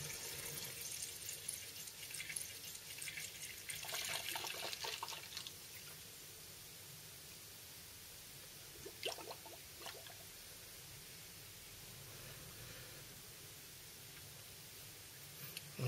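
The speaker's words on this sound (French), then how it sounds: "Alors on entend un drôle de bruit. Au fur et à mesure que le liquide remplit le circuit de refroidissement," Coolant trickles and gurgles into a car's cooling circuit, a faint hiss of flowing liquid with occasional small drips and bubbling noises, quiet and close.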